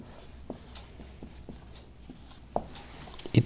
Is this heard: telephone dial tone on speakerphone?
no